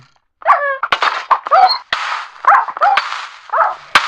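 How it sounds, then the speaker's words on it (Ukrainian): Several dogs fighting in a video game snarl, yelp and bark in rapid, overlapping bursts, a close and frantic scuffle with sharp cracks breaking through. "Что двое собак бьются?"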